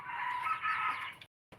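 A garden chicken gives a short, strained crowing call up close, a single drawn-out cry lasting about a second, followed by a brief quiet gap and the start of another sound; no speech.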